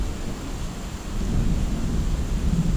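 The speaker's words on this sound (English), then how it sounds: "Thunder's just like almost constant again." Thunder rumbling almost constantly during a heavy outdoor rainstorm, a low rolling roar that swells louder in the second half over steady rain hiss.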